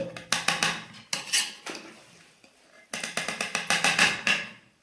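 A spoon repeatedly clinks and scrapes against a metal pot while mixing vegetable pulao rice, in bursts of quick rhythmic taps separated by short pauses.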